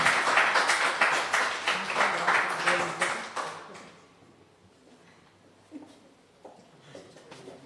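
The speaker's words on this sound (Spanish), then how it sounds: "Un aplauso para usted." A live audience in a Spanish-language medical talk claps for a speaker: dense, loud applause for about four seconds, then it drops away to a quiet room with a few scattered sounds.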